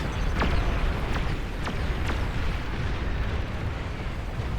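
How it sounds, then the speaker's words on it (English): Bombers making a bombing run in a strategy video game, with several sharp bursts landing over a dense, steady rumble of battle noise, fairly loud and without speech. "we get ready to line up for another bombing run"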